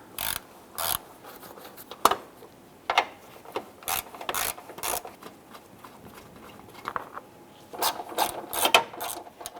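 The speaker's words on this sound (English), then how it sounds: "Use a 10mm socket to go ahead and remove these 4" A 10mm socket ratchet works the top grille bolts on a 1995-2001 Ford Explorer, giving close, crisp bursts of clicking in short runs separated by pauses, with no talking.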